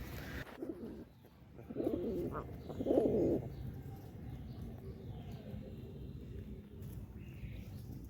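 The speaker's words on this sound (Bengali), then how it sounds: "আর ওই যে হইতাছে আসিফের কবুতর" Domestic pigeons give a couple of low, soft coos close by, set against quiet ambient background noise.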